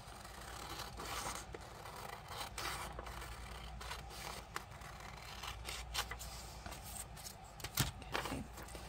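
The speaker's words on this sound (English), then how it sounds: "cut this out." Scissors cut paper for a flip-flop journal with steady snipping and scraping close by, soft and continuous, and a louder rustle near the end.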